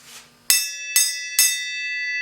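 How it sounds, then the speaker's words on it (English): Small bell struck three times in quick succession in a garage, each bright ringing strike sustaining and overlapping the next, loud and close, with a brief voice just before. "Alright, ring the bell,"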